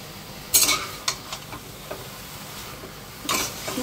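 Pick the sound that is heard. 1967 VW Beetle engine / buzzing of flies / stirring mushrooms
stirring mushrooms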